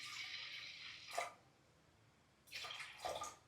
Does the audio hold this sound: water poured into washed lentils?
yes